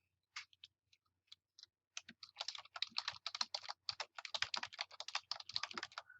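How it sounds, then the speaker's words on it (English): Keys tapped on a computer keyboard, a few isolated clicks giving way to a fast, steady burst of close, crisp typing with no voices. "I'm going to start to type."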